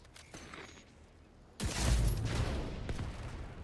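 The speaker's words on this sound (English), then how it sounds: "That was a headshot, but that was white damage for some reason" Quiet game ambience gives way to a sudden close burst of video-game gunfire, with rapid shots and clatter continuing for a couple of seconds.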